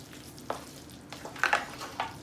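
Freeze-dried chives are stirred into a dish in a pan with the heat off, giving a few soft, faint scraping strokes against quiet background.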